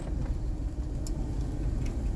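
The engine of a Chevrolet Monte Carlo rumbles loudly in a low, steady idle on a street, a deep continuous growl with no talking over it.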